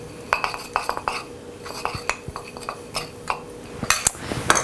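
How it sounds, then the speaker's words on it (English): A utensil stirs yellow food coloring in a bowl, producing close, irregular clinks and taps against the dish. The scraping comes in quick bursts, with no talking. "And then we'll take the yellow and go ahead and mix that up."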